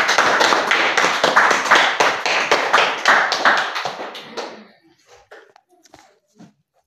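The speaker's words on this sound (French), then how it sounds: "Applaudissons pour le Seigneur." A French-speaking church congregation claps in loud rhythmic unison, beats evenly spaced for several seconds before thinning out into a few scattered, fading claps and silence.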